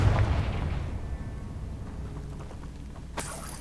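A Confringo spell blast in Hogwarts Legacy: a loud, deep explosion at the start that rumbles and fades over a few seconds, followed by a sharp bright crackle near the end.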